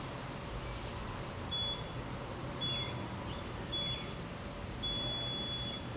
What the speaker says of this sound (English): You're gonna hear beeps.